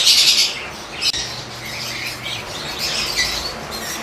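Two pet birds of different mutations calling, with squawky high chirps at the start and again near the end, fairly close over a quiet room background.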